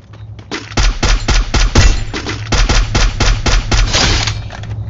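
Loud, close bursts of automatic gunfire from an online shooter video game, rapid cracking shots in quick succession with brief gaps, filling the whole stretch without any talk.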